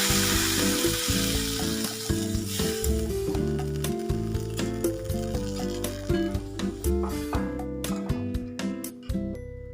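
Water added to a hot pan of fried greens for a fish curry, producing a close, bubbling sizzle with clattering stirring and tonal scraping sounds throughout, no talk.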